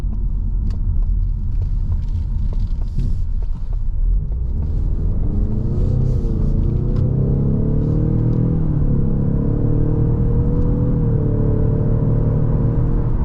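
A 2023 Ford Mustang EcoBoost with a 10-speed automatic heard from inside while driving, a steady loud engine and road rumble with the pitch climbing and shifting through gears as it accelerates.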